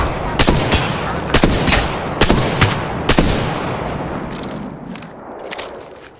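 Gunfire from the battle royale game Apex Legends: four sharp, loud shots spaced about a second apart, each with a trailing rumble, followed by fainter scattered shots further off and no talk.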